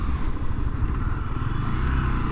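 Motorcycle rolling over a series of speed bumps on a city road in Buenos Aires, its engine droning steadily and close with faint clattering jolts throughout.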